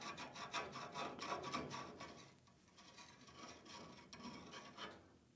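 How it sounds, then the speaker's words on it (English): A Ridgid deburring tool scrapes around the cut end of a pipe in quick, rhythmic rasping strokes, close and fairly quiet, with a brief pause partway through before a few more passes. "go in with the rigid tool, clean any burrs that might be there"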